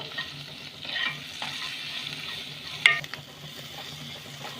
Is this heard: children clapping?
no